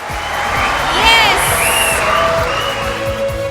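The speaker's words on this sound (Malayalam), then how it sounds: "നല്ലൊരു കൈയടി." Audience at a prize announcement clapping and cheering, a dense loud wash of applause with scattered shouts and whoops, alongside a voice and echoing music tones.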